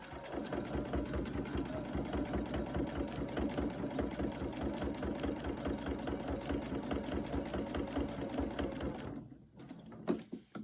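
A sewing machine stitches a bucket hat at a fast, steady rhythm of rapid needle strokes, running continuously up close for most of the stretch before slowing and stopping near the end.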